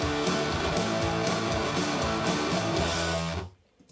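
Layered drums, guitar and fuzz guitar play together as a dense rock mix for about three and a half seconds, then cut off abruptly into near silence.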